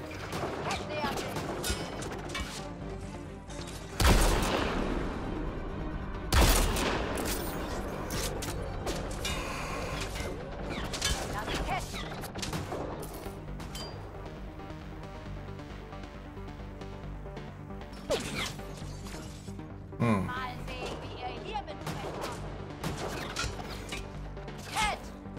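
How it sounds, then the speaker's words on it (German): Enemy gunfire in the sci-fi shooter Mass Effect: Andromeda, a steady clatter of weapon shots and impacts with a few loud bursts, layered under game music and effects. "Aber solange wie die von da drüben schießen"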